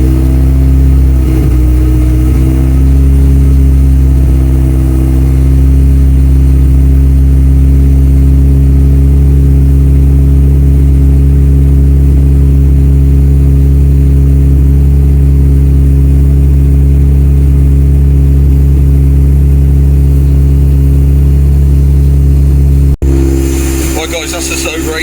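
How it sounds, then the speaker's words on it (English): A freshly remapped Ford Escort Cosworth engine warming up, running loud and close as a steady, deep drone with slight rises in revs, then cutting off abruptly near the end. "I'm going to give it a bit of rev now."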